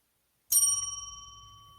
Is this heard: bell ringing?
yes